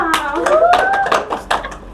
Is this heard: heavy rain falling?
no